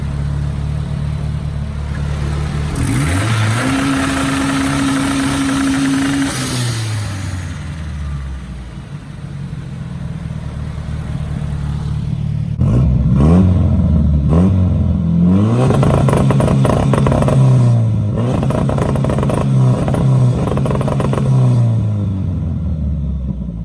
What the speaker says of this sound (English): I'm gonna engage it, give you a shot of the engine, give you a shot of the exhaust